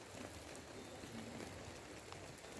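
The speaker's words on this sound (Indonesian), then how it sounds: "Hujan ya." Faint, steady rain hiss under a foggy sky, even and continuous for a couple of seconds with no distinct drops standing out.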